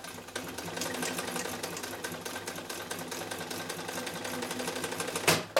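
A Chaika-3 sewing machine stitching: a steady, fast mechanical clatter of needle strokes runs without a break at close range, ending in a brief sharp burst near the close.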